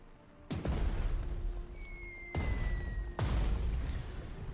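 In the strategy game Panzer Strategy, three heavy bombing explosions land in turn, each a sudden loud boom that fades into a low rumble. The second and third blasts follow close together.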